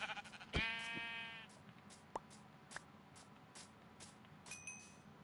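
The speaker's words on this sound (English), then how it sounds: "Oh, there's another sheep" A Minecraft sheep gives one clear bleat at close range, followed by soft game sounds: scattered clicks and faint chimes, all quiet.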